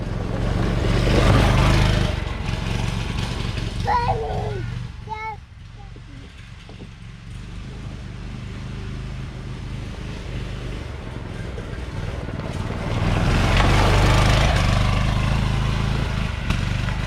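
A Manco Dingo go-kart engine drives through the woods, its motor droning loudly, fading to a rougher idle with voices calling over it, then surging loud again as the kart passes close.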